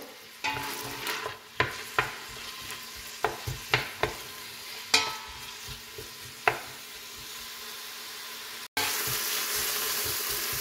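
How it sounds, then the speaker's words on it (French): Onions searing in hot olive oil in a pan for chicken couscous, a steady sizzle with repeated sharp clacks of stirring against the pan, close and fairly quiet, no talking. "on vient faire chauffer de l'huile d'olive. On va mettre nos oignons. Et on va les saisir."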